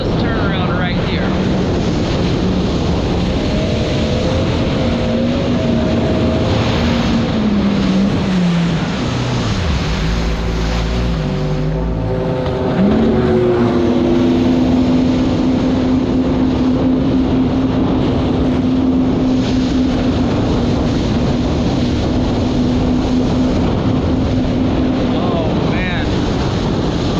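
A jet ski engine running at speed on open water, a loud steady droning whine that dips and rises in pitch, with heavy wind buffeting and spray noise throughout.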